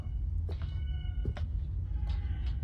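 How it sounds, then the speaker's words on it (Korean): A cat meows several times in a horror video game, short plaintive cries spaced across a few seconds over a low droning ambience, with no talking. "고양이?"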